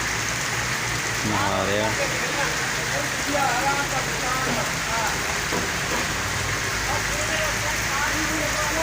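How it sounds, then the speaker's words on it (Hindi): Steady heavy monsoon-style downpour hisses throughout, a dense unbroken patter, while someone talks over it in Punjabi. "चंगी बारिश हो रही है"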